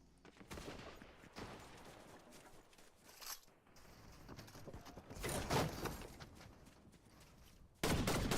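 Gunfire in the Fortnite video game, scattered bursts of shots and fusillade mixed with footsteps and movement sounds, moderately faint over game ambience.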